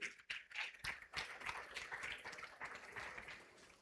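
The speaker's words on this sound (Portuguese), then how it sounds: "Vamos aplaudir ao Senhor, receber das nossas crianças" A church congregation applauds for the arriving children: a soft, steady patter of many hands, fairly faint and distant, lasting the whole stretch with no voices over it.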